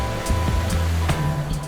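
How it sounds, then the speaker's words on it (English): A waterfall on a beginner-friendly hiking trail in Oregon, a steady broadband roar of falling water heard close and loud, with a low rumbling undertone and no voices. "be sure to check this waterfall out."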